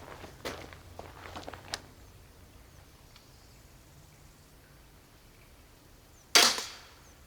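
An arrow tipped with an agave thorn is shot into a target: a few faint light taps early on, then one sudden sharp impact near the end that stands out loudly against near silence.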